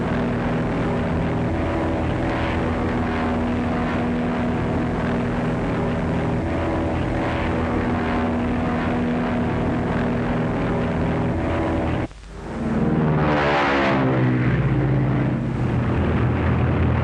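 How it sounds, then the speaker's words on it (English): A propeller-driven high-wing monoplane drones steadily as it flies in a 1936 film, its engine a loud continuous buzz that briefly cuts out, then returns with a rising, sweeping pass. "High-wing monoplane just ahead of you about 3 miles."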